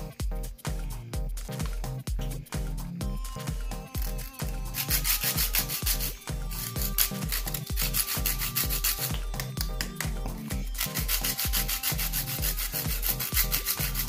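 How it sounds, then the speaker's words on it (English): Whole nutmeg rubbed against a kitchen grater while sweetening Jamaican green plantain porridge, a close, rhythmic scraping of quick even strokes that grows brighter and harsher partway through. "This is nutmeg. This is my grate."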